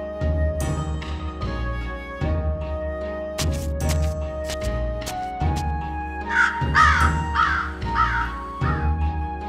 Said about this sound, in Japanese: カラスが鳴く。